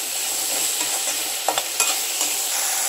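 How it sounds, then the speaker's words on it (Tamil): Tomatoes sautéing in a pan for a raw jackfruit kurma give a steady, close sizzle, broken by a few brief scraping stirs near the middle, with no voices. "இப்போ நல்லா வதங்கணும் தக்காளி."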